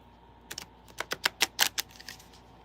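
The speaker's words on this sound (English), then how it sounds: "Okay, I'm going to shuffle." A deck of playing cards is shuffled at close range in a rapid run of crisp riffling snaps, bunched together in a quick burst about two seconds long.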